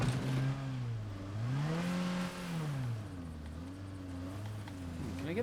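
A small compact car in State of Decay 2 drives with its engine note rising, dipping and climbing again as it revs through rough ground, a steady mid-pitched hum running throughout with no talk.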